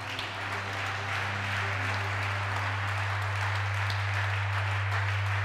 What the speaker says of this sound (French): j'entends quelqu'un dire Amen en acclamant le Seigneur